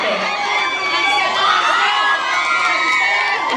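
A crowd of students shouts and cheers continuously at full volume, many high voices overlapping in a dense, excited roar throughout.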